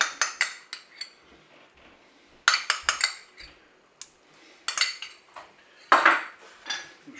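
Cutlery scraping and clinking against a dish while honey and mustard are mixed for a honey pork roast made in a Cookeo, coming in irregular bursts of sharp metallic clatter with quiet pauses between them and no talking.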